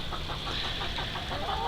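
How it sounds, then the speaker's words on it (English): Backyard chickens cluck in a short burst of rhythmic, close clucking over a steady background hum. "And here are the chickens."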